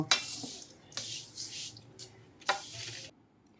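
Food frying in a pan for a home breakfast, heard as faint, intermittent bursts of sizzling and spatula scraping, with no speech.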